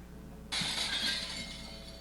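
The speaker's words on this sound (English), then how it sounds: "Oh, that's right, Broken Glass." Glass shatters as a sound effect: a sudden bright crash of breaking glass with a lingering tinkling tail, fairly faint and with no talk.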